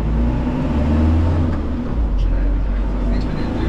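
A small tour bus on Aruba pulls away, its engine rumbling loud and low from inside with a constant drone, under some talking among the passengers.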